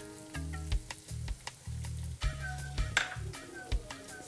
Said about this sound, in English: Fry garlic, onion, and ginger.